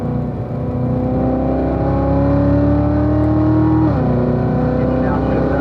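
Chevrolet Corvette accelerating hard in fifth gear on a racetrack, a loud steady engine drone with rising pitch that dips briefly around a shift, running continuously close up.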